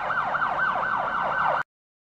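A rapid wailing police siren from a kids' vehicle learning video game rises and falls in quick repeated cycles, loud and close, then cuts off abruptly.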